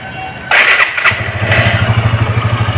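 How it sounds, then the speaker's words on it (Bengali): A 2024 Suzuki Gixxer SF FI ABS motorcycle, about 3,400 km on it, cranks and fires up loudly close by, then settles into a steady, throbbing idle. "দেখেন গাড়িটি স্টার্ট দেওয়া হয়েছে"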